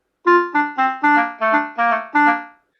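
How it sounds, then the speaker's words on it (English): A synthetic clarinet plays seven evenly spaced notes, each swelling and tapering, forming a short rising-and-falling phrase with no talking. "if we have the clarinet alone, it sounds like this."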